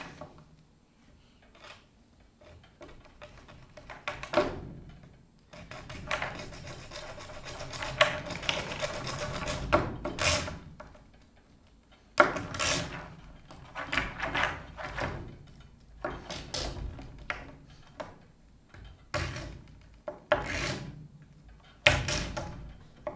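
A tube for soft reeds is cut to length by hand, giving a scattered series of close, faint scraping and clicking cutting sounds with quiet gaps between bursts and no talk.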